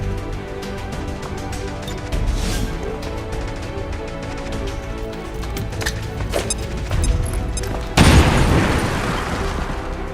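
A grenade detonates in XCOM 2, a sudden loud boom with a long rumbling, crackling tail that follows tense clattering battle ambience and scattered impacts.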